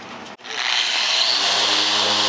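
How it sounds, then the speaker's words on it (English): A power sander smoothing a fiberglass repair aboard a sailboat starts up after a brief pause and runs loud and close with a steady high whine. "I'm just sanding it back smooth again so Sarah doesn't get any fiberglass scratches or itch from it"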